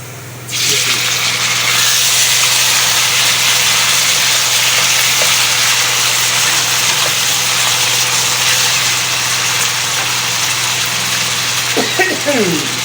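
Tomatoes hit a hot pan while cooking aloo methi, setting off a loud, steady frying sizzle that begins abruptly and keeps hissing evenly, with a few light utensil clinks near the end.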